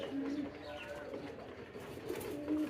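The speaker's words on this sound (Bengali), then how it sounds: "ওই যে দেখেন কবুতরটা" Soft, low pigeon cooing repeats a few times nearby, gentle rolling calls over faint background noise.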